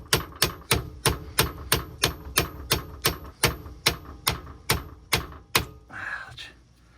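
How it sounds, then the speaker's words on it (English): A hammer strikes a bolt used as a drift to drive a pin out of a Honda Civic, about fifteen sharp metallic blows in a quick, steady rhythm, close and loud, followed by a short groan. "I'll try to hit this with a hammer and see if I can get the bitch pin out"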